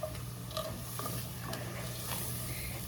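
A utensil scrapes browned bits off the bottom of a pan as chicken broth deglazes it for a one-pot honey Dijon chicken, with soft repeated scrapes over a faint steady sizzle, brief and close.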